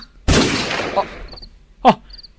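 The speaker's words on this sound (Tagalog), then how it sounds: "Nagpaputok man ni daddy iti paltog na." A single loud gunshot from a gun cracks sharply nearby, followed by a shorter second burst a moment later.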